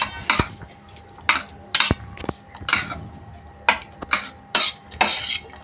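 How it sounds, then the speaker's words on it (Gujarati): American corn bhel is mixed in a bowl with a metal spoon: a series of sharp, close clinks and scrapes against the bowl in an uneven rhythm, loud and with no talking. "આપણે એને મિક્સ કરી દઈશું."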